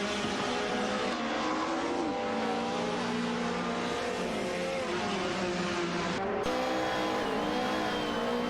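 Race cars in an AI-driven racing video game, including a Mercedes, roar together in a tightly packed field, engines droning and shifting pitch continuously with tire squeal throughout, loud and steady with no talking.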